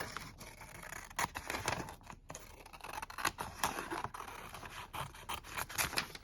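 Scissors snip through wrapping paper for a Christmas glue book, a close run of quick, crisp cuts and papery scrapes in uneven bursts with short pauses between.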